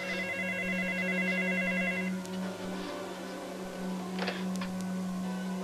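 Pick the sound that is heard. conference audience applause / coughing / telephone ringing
telephone ringing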